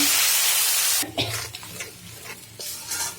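Ground spices are sautéed in a pan for a koi fish curry with potato and pointed gourd, starting with a loud steady sizzle, then quieter scraping stirs and crackling bursts close by.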